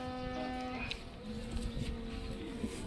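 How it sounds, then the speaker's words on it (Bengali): A small Qurbani cow at a cattle market gives one long, drawn-out moo that fills most of the moment, close and fairly clear. "এটা কোন জায়গার গরু"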